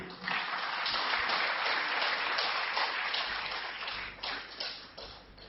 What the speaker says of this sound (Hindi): मेरी गुजारिश है कि आप जोरदार तालियों से उनका स्वागत करें